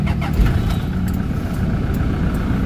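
A Toyota Fortuner engine, with a fault causing low power and sudden stalling, idles steadily up close, a continuous low rumble with no breaks or changes in pace.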